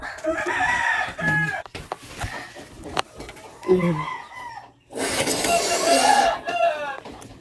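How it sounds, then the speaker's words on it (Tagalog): Chickens cluck in a coop and a rooster crows repeatedly, close by and loud, with a busy mix of farmyard calls throughout. "Pakita ko sa inyo yung kulungan ng manok nila ha"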